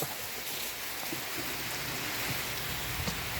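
Rain falls steadily outside the front of a house, a dense, even hiss with scattered soft patters and no talking over it.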